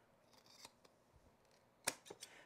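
Scissors snipping through stair runner carpet during a stair runner installation with a right-turning landing, a few faint soft cuts followed by one sharper, louder snip and a couple of lighter ones, no talking.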